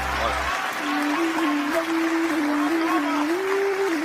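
An audience at an Urdu poetry recital claps steadily for a few seconds while someone talks over the applause.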